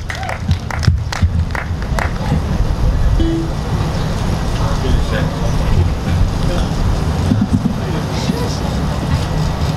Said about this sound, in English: Big round of applause for Tom.